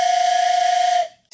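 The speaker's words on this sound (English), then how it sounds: "this whistle that just sounds like a train" A single loud, steady whistle with a breathy, steam-like tone, much like a train whistle, held for about a second before cutting off abruptly.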